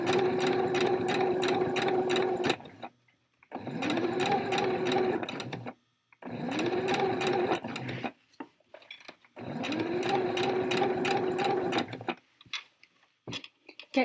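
A sewing machine stitches along a zipper on trousers in four steady runs of fast, even mechanical chatter, each separated by brief pauses, with a voice talking over it.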